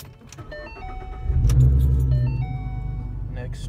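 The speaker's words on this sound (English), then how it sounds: "Step three, turn the car on." A Ford Mustang with a 3.7 V6 engine being started, a rising low rumble settling into a steady idle, with faint tones and a key-jangle rattle at the start.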